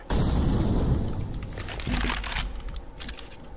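An incendiary grenade in CS:GO bursts with a sudden loud crackle and crunch, then a second burning flare-up follows before it fades into fizzing noise. No one speaks.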